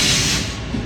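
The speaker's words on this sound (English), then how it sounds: "I hear a train coming." A train rumbles nearby as a steady, loud roar with hissing noise and low mechanical clatter, with no voices over it.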